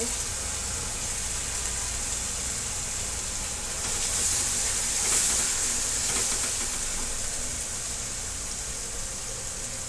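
Chili paste fries in a pan for a dhaba-style garlic methi dish, giving a continuous close sizzle and hiss that swells briefly in the middle before settling back.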